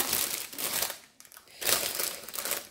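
A sealed diamond painting kit package being opened, loud close crinkling and crumpling of plastic wrap in two rustling bursts with a brief lull between.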